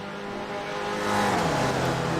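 Race cars in a sim racing broadcast at Phillip Island, engines whining close by as they pass, the pitch swelling and then dropping as they go by.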